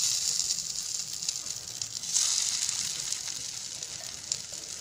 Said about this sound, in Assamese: এই পিঠাবিধ ভাজিবলৈ বহুত টাইম নালাগে